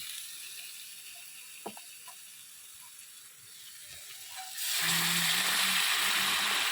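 Hot water is poured onto cooked spice masala in a hot pan. It comes in with a sudden loud, sustained sizzling hiss after a quieter stretch of faint kitchen noise and clicks.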